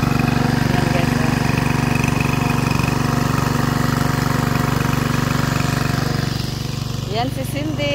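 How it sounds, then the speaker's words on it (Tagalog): A motor driving a deep-well water pump for watering mango trees drones loud and steady with a low, throbbing idle, its tone easing slightly near the end as a voice talks over it. "Ayan ang aming makina."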